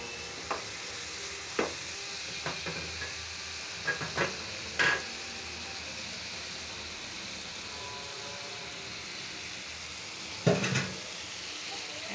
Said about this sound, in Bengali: মশলাটি ভুনা হচ্ছে।